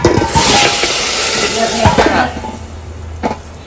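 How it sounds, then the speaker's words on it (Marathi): Cooked goat trotters with their cooking water go into hot spiced tempering oil, giving a loud burst of sizzling and hissing that fades after a couple of seconds, followed by a few clinks of a utensil. "जे आपण पाय कुकरात शिजवलेले ते पाण्यासकट पाय यामध्ये फोडणी देणार"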